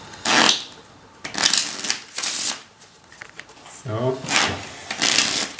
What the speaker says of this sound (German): Ich tue sie gerade noch ein bisschen mischen kurz.